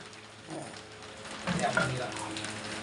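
Pork stir-frying in a pan for Thai basil stir-fry, a steady close sizzle with a few louder spits and stirring scrapes around the middle, with faint background voices.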